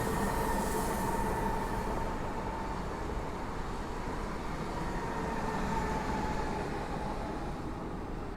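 A passenger train from Siedlce to Piaseczno runs at Warszawa Główna station, giving a steady, continuous rolling rumble that stays fairly close and even throughout, with no one talking.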